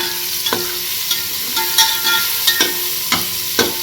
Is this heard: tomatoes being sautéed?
yes